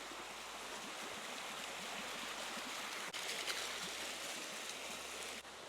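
Hot spring water in Uganda runs down a hillside in a steady, broad rushing wash, continuous and fairly even throughout with no voices.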